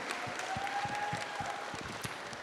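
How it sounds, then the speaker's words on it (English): An audience at a live event with the cast of the Saw films applauds itself. The clapping is soft and somewhat distant, a steady patter of hands with a few sharper claps standing out. "Give yourselves a round of applause."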